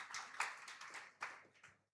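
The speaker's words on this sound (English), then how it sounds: "Let's clap for them." A panel event audience claps for the panelists, a faint, scattered patter of hands heard from a distance, fading out after about two seconds.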